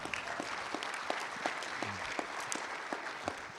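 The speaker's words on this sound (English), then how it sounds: "That's right, give them a round of applause." A keynote crowd applauds a historic union recognition vote, a dense, fairly faint spread of many hands clapping steadily with scattered sharper claps and a brief voice or cheer in the middle.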